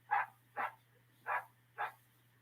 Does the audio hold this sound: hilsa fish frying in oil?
no